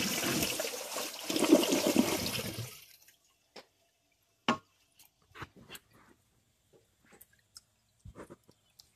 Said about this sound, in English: The tank is done filling, so here's a flush.